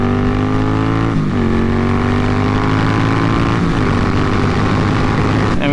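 A 2020 Indian Scout Bobber motorcycle rides along in a continuous loud engine drone with slight shifts in pitch, close up and steady throughout.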